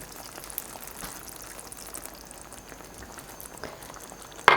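Pumpkin pieces in sauce simmering in a covered pot for Afghan kadoo borani, a soft, steady bubbling patter running throughout at low level, with a sharper knock right at the end.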